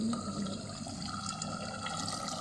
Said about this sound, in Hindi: ये अब हमने भिंडियाँ गलाने के लिए इसमें पानी डाल दिया।